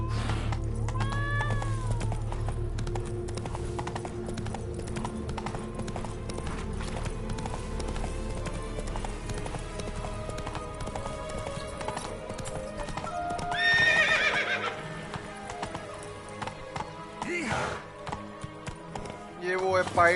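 Hooves of a galloping horse clip-clop steadily through The Witcher 3 video game, with a whinny partway through, under game music and spoken lines.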